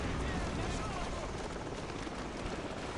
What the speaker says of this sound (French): Hélicoptère en approche rapide